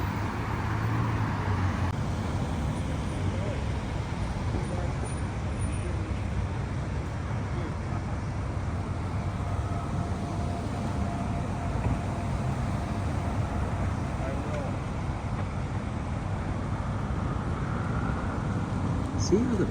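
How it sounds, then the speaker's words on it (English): Road traffic at an intersection as a bus swings wide through a left turn, a steady low engine hum and roadway rumble under continuous talk. "See how the bus has to come swinging way out into the intersection as the other traffic has to wait for the left turn."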